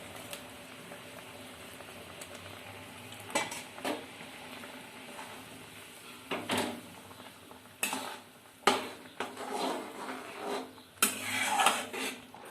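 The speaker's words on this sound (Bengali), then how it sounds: "এরপর আমি চিংড়ি মাছগুলো দিয়ে নিচ্ছি।" Prawns go into a pan of boiling malai curry with a soft bubbling simmer. Several clinks of a utensil against the pan and some stirring follow, close and moderately loud, with no talking.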